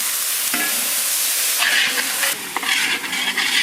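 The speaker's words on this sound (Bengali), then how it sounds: "গ্রেভি করার জন্য একটু জল দিয়ে দেবো।" Water poured into a hot pan of spices for chicken kofta gravy makes a sudden surge of steamy hissing and bubbling partway through, over ongoing sizzle and light stirring.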